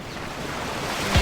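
Ocean waves from a beach soundscape in a Scratch happy-place app, a steady washing surf hiss with a slightly louder surge near the end, heard alone without talk.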